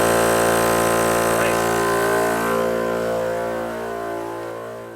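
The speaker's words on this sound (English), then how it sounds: "we'll give the air compressor the head start" A portable air compressor runs steadily while inflating a Jeep tire, a loud continuous mechanical drone that slowly fades and lowers toward the end.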